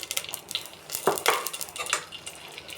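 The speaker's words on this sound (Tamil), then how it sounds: "வரமிளகா போட்டு நல்லா மிக்ஸ் பண்ணிக்கலாம்." Dried red chillies fry in about 50 grams of hot oil in a pan, a soft crackling sizzle under quick scraping and clinking strokes of a spoon stirring them, close and with no voices.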